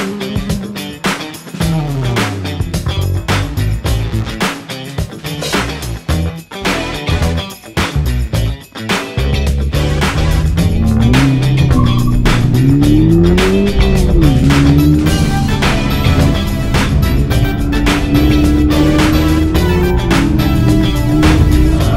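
A Subaru race car on a time attack lap at Mandalika Circuit, with tire squeal, gear shifts and rising engine revs, loud and close, choppy at first, then steady and droning.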